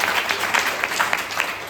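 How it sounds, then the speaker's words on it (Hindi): Devotees clap their hands in praise of Radha Govind during a kirtan gathering at a mango festival, a steady crowd applause with rapid overlapping claps held at an even level throughout. "राधा गोविंद भगवान की ताली बजाओ"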